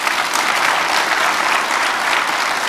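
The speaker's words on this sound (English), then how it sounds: "let's give Dave a round of applause on that" A conference audience at an awards presentation breaks into loud, sustained applause, dense even clapping from a large crowd with no pauses.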